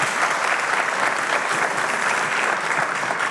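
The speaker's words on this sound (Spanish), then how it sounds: "Un fuerte aplauso, por favor." Audience applause at a school awards ceremony after a folk dance group's performance, a steady dense wash of many hands clapping from start to finish with no voices.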